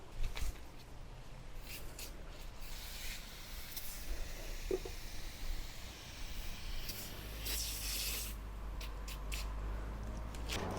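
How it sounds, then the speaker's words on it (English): A Windex-like lubricant is sprayed around the bead of a Suzuki GSX-R 600/750/1000 motorcycle tire, giving a few short hissing bursts over a quiet workshop background. "I'm going to spray that around the bead and then break that bead."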